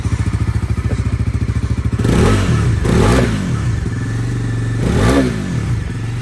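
A motorcycle idles with a fast, even thump, then is revved three times in quick, loud, close bursts that rise and fall, on an empty high road near a Kedarnath trek.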